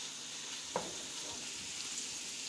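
Garlic sizzles softly in hot oil in a cooking pot while being browned, a faint, steady crackle with a brief stirring clink partway through.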